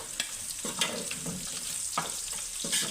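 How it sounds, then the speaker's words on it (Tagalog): Chicken wings fry in oil until golden brown, making a soft, steady crackle with scattered louder pops and spatters, fairly faint and close. No voices are heard. "pa golden brown lang po natin yung ating pampaots or wangba."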